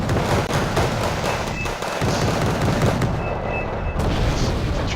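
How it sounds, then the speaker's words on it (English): Bomb explosions from F-35B Lightning jets striking an infantry battle in Wargame: Red Dragon, a dense, continuous roar of overlapping blasts and booming impacts, loud and sustained with no pauses. "And they get bombed by the F-35B Lightnings."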